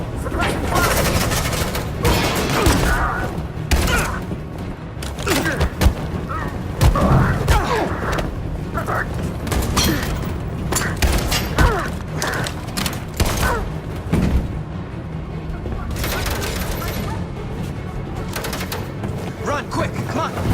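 Gunfire and heavy impacts from a firefight in the video game Detroit: Become Human, continuous and loud over a dense game soundscape with shouted voices throughout.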